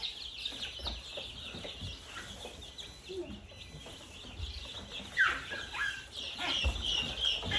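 Small guinea fowl chick in a large brooder giving thin, high peeping chirps, some rising and falling, scattered over a quiet background with light rustling and faint distant voices.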